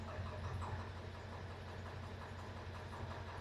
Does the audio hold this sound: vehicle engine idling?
yes